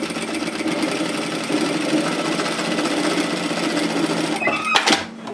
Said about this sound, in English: when you are sewing with your plain sewing machine